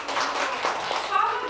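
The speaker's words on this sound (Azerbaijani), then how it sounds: "Uşaqlar, komandamızı alqışlayaq" Schoolchildren clap for a team in a school open lesson, a dense, steady patter of many small hands filling the room, with children's voices mixed in underneath.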